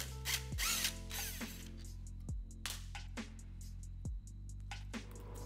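A powered ratchet spins a 12 mm socket to remove the front cover of an SR20/KA24 transmission, giving several short whirring bursts with clunks as it engages and stops, close and fairly quiet.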